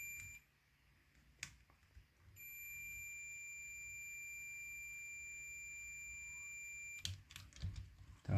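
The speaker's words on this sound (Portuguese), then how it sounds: "E tá bipando." A Nespresso Aeroccino 3 milk frother with a new motor gives a steady high-pitched electronic beep for several seconds in a quiet room, framed by a few clicks and clunks before and after.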